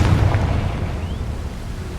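The Confringo explosion spell going off in the video game Hogwarts Legacy: a loud, broad blast with a deep rumble that swells at the start and then rolls on steadily without a clear end.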